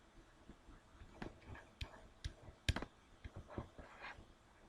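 Numbers being tapped into a calculator: soft, irregular clicks of buttons pressed one after another, faint and close with quiet background.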